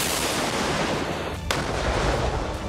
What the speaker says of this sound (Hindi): जिनको सेना ने एक एक कर धमाके के साथ नष्ट कर दिया।